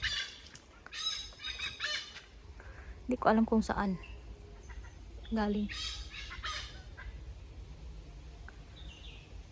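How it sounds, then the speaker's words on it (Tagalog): Loud honking bird calls, goose-like, ring out in a few noisy bursts outdoors, with a person speaking briefly in between. "Ang ingay. Ibon."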